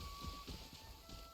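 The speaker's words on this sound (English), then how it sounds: "It always rains when I go on an adventure." Steady rain falls in the Genshin Impact video game, a continuous dense hiss with a faint low rumble, heard alone and close without any talking.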